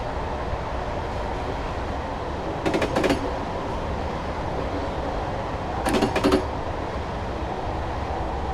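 Train running through Woodhead Tunnel in Train Simulator 2017: a steady low rumble of wheels and engine fills the tunnel, broken twice by short clattering bursts of rail joints.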